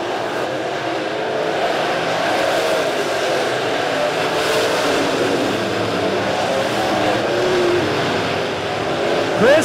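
Dirt track race cars roar around the oval at Springfield Raceway, a loud continuous drone of engines in lap traffic with faint voices mixed into the noise.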